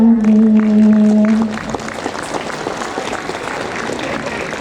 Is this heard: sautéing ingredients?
no